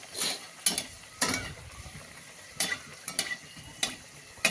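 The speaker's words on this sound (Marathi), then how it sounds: "आता आपण दोन दोन पुऱ्या ह्याला छान सोडून घेऊया आणि तळून घेऊया" Puris deep-frying two at a time in hot oil, with a low bubbling sizzle under repeated scraping and stirring clicks from a utensil against the pan.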